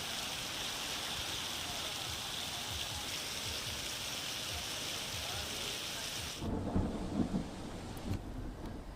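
Heavy rain pours down in Sabarkantha as a loud, steady broadband roar, then gives way to deep low rumbling and closer splashing toward the end.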